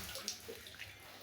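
Water trickles and drips from freshly washed saag greens set over a bucket, a faint, uneven splashing patter with a few brighter drops.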